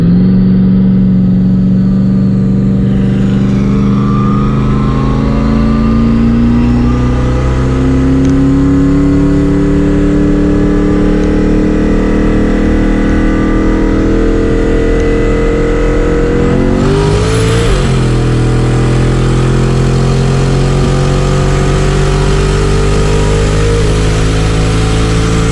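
A twin-turbo Corvette racing a stage 2 tuned McLaren 720S, loud engines revving and accelerating hard with rising pitch, a shift or lift around the midpoint, then continuing a sustained high-power roar.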